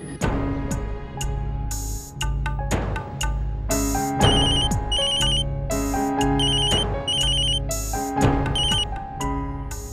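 A mobile phone ringtone in the Hindi TV drama Yeh Rishta Kya Kehlata Hai rings out as a loud, rhythmic electronic melody, its beeping phrase repeating steadily over percussive backing for the full ten seconds, with nobody speaking.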